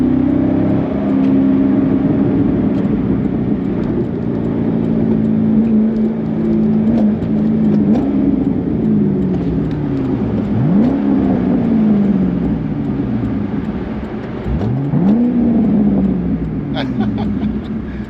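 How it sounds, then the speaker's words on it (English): A 2006 Corvette C6 V8 engine hums steadily from inside the cabin, rising in pitch through long gears with several upshifts, while a voice talks over it. "This car has crackle and pop, man. It has the crackle and pop."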